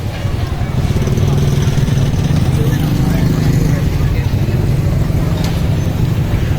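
Busy night market street in Taunggyi with a steady loud rumble of motorcycles and traffic close by, engines droning continuously beneath crowd noise.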